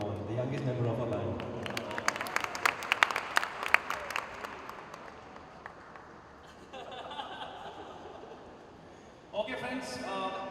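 Audience clapping at a live music event, a burst of scattered and then fuller applause rising in the first half, fading behind a host's amplified voice that carries on talking over the room.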